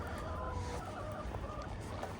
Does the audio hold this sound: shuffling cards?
no